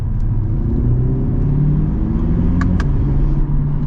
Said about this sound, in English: So quick with the shifts. It's just like boom, boom.